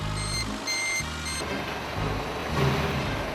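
Steady tonal beeps from a truck reversing at a factory while recycled empty bottles are unloaded, repeating at a regular pulse over a loud, rumbling engine and broadband mechanical noise.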